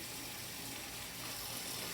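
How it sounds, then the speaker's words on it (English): Water runs steadily from a sink tap while hands are wetted, a smooth, even hiss of flow heard close with no talk over it. "you'll turn your water on, a little hot and a little cold, wetting your hands"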